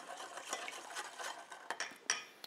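Quiet spoon scraping and clinking in a small bowl as salt and sugar are stirred into a tablespoon of vinegar, a busy irregular rhythm of close, soft strokes with a few sharper taps near the end.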